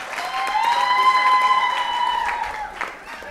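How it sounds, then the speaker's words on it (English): An audience at a newsroom contest grand finale applauds, with a sustained cheering voice riding over the dense clapping for a few seconds before it tapers off. "can we clap for Sandra?"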